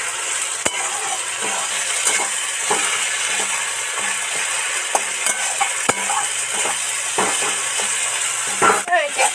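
Ground drumstick leaf paste frying in oil with spices, stirred in a pan: steady sizzle with repeated spoon scrapes and clinks against the metal, close and fairly loud.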